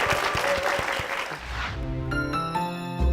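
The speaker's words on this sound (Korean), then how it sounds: "이 가족에 큰 박수 부탁드리겠습니다" A church congregation claps for a family during a Korean service, dense applause fading over the first half before giving way to sustained organ or keyboard chords.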